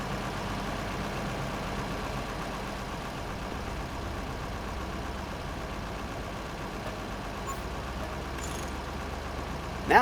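A large tractor engine in a farming video game runs at a steady idle, a continuous low rumble held evenly throughout with no talk over it.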